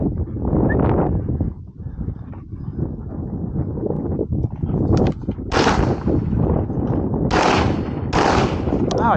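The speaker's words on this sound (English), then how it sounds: "I missed it in the first shot" Gunshots ring out during a hunt, a few sharp loud cracks in the second half over steady outdoor rumble and wind, with a muffled voice early on.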